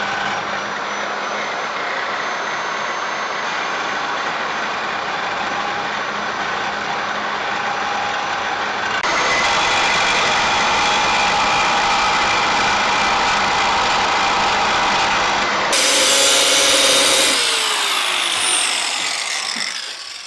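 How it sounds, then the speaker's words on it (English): An angle grinder cuts out welded clamshell motor mount bolts with a loud, continuous high whine that shifts pitch a few times as the load changes, close up and alone without talk. "let's go ahead and fire up the grinder and get to work"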